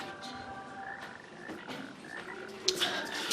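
Toads croak in a steady, low chorus of repeated rattling calls at moderate loudness, with a brief louder burst near the end.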